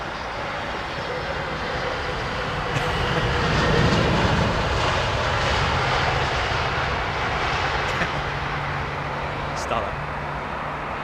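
Airliner jet engines at Heathrow Airport, likely an A330 or A350, roar as a steady broadband rumble that swells slightly mid-way, with people talking faintly beneath it.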